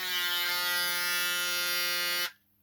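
A partly disassembled Braun Series 9 electric shaver running with a steady, buzzing motor hum for about two seconds before it cuts off abruptly, leaving near silence.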